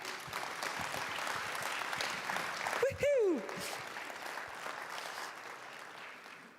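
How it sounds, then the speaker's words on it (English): Audience applause at a conference showcase, clapping rising under a host's voice, broken by a loud whoop of cheering midway, then continuing more softly. "A huge round of applause, please, for Megan."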